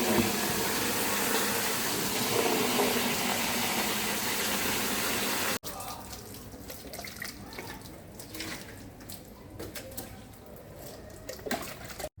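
Steady rushing water hisses and splashes while a vehicle is washed, first as a dense continuous spray, then cutting to a softer, uneven splashing and trickling.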